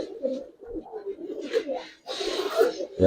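Coloured fancy pigeons in a Bangladeshi loft give soft, throaty coos in short repeated bursts, close and fairly quiet, with a brief rustle or wing flap near the end.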